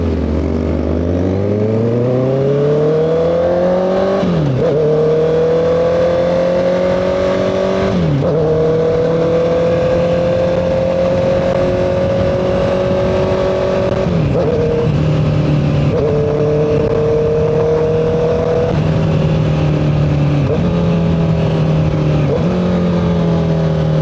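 A 2025 Honda CBR650R motorcycle engine hums steadily while riding at night, its pitch rising and dropping with repeated gear shifts, wind rushing constantly in the background.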